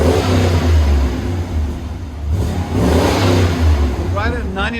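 A 1998 Chevy Suburban with a 5.7L V8, X-pipe and Borla Pro-XS exhaust revs loudly and close up in rising and falling pulls, while voices talk over the engine.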